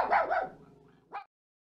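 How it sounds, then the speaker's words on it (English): A puppy's bark, a pair of short close yaps followed by a fading tail and one brief higher yip, alone against silence. "a shy brown puppy came to the old woman's gate"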